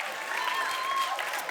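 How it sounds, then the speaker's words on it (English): Audience applause at a university engineering festival event, steady dense clapping from a crowd filling the whole moment, loud and continuous. "Big round of applause for Trent."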